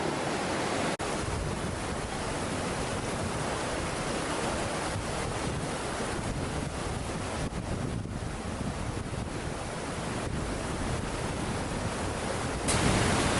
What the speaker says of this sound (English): I don't know how well you can hear me over the water